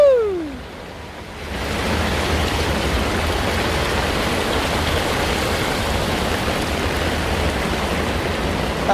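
Heavy rain pouring in Lekki Phase 1, a dense, loud, steady roar that swells in after a brief quieter start with a short tonal sweep, continuing unbroken, no voices.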